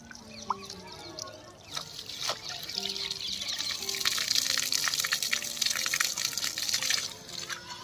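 Fresh cold water gushes and splashes steadily from a pipe outdoors at sunset, a continuous rushing flow that builds slightly, with faint talk and scattered background sounds underneath.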